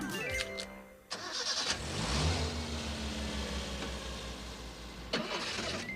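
A cartoon car engine cranks, catches and starts, then settles into a loud, steady, rough running drone with a burst near the end, alone without speech.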